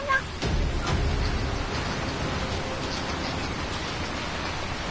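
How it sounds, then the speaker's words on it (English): Rain pours in a video game as a steady, dense hiss of falling water, with a few faint thuds near the start and no talking. "why is it raining?"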